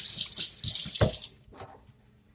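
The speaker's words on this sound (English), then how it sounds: "So now, wash my hands." A tap runs in short splashing bursts as hands are rubbed under the water at a kitchen sink, close and fairly loud. The flow thins and stops near the end.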